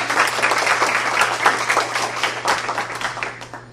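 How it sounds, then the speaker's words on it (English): An audience applauds at a faculty colloquium to welcome a speaker, with dense, steady clapping that stays loud throughout before thinning slightly toward the end; a faint steady hum sits underneath. "please help me welcome Dr. Sam to a round of applause."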